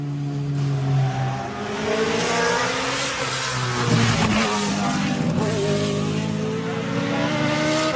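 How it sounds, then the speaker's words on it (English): A BMW M3 GTR race car at the Goodwood Festival of Speed barks and revs through rising and falling gear pulls, loud and fairly close, with a sharp burst of acceleration midway and crowd ambience beneath. "Who wants to listen to an M3 GTR?"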